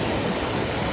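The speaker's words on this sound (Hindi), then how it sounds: "पानी का फ्लो देखिए आप कितना तेज़ है।" Fast-flowing Ban Ganga river water after heavy rain rushes in a loud, continuous roar with no talk over it.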